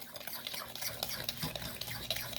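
A spoon scrapes and clicks rapidly against a bowl, whisking cream for homemade ice cream, a busy, steady rhythm close up with no talking.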